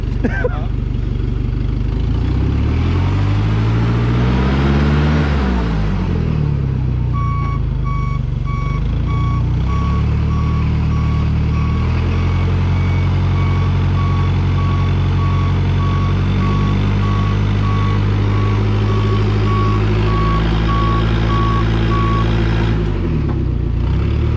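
Loud pickup truck engine idling and revving while backing up near a trailer, with a steady reverse alarm beeping in a regular rhythm through most of the stretch and people talking over it.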